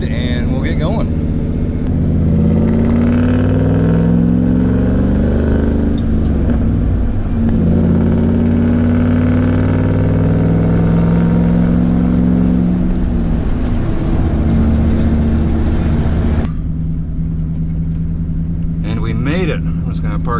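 A farm pickup or tractor drives steadily with a loud low engine rumble and droning harmonics, rising and falling slightly, then idling lower near the end, with a person talking over it.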